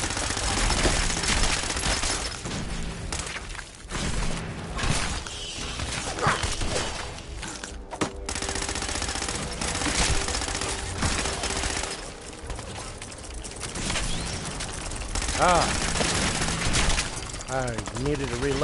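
Heavy gunfire from a video game weapon during a boss fight against a Mirelark queen at the castle, in dense, sustained bursts layered with impacts and game effects for most of the stretch, with talk underneath.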